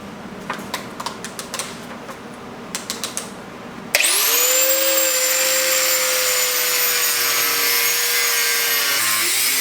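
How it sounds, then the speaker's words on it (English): Mounting tabs are cut off a car radiator on a budget twin-turbo LS Chevrolet Malibu build: quick rhythmic taps come first, then a loud, close, sustained high power-tool whine grinds through the metal. "cutting up our tabs built on this radiator so we can get it mounted up"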